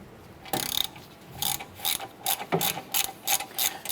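Ratchet loosening 10mm bolts on a 2008-2012 Honda Accord front wheel hub: a sharp, close clicking ratchet sounds in quick bursts, first spaced apart and then faster and more regular, with no talking.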